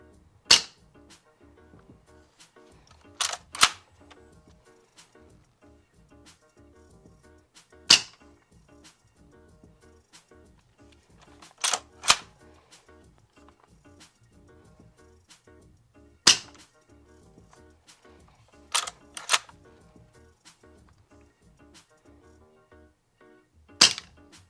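A G&G Levar 15 gas-powered airsoft rifle firing through a chronograph: sharp, isolated single pops, often in quick pairs, separated by long quiet gaps, close and loud against near silence.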